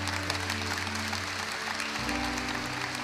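Audience applause greets a Catholic priest walking onstage at a Brazilian Catholic preaching event, a steady dense wash of clapping from a crowd that keeps up for the whole stretch under a sustained low musical hum.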